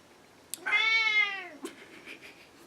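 A single drawn-out meow from a pet cat, clear and close, rising then falling over about a second, followed by a faint tap and light room noise.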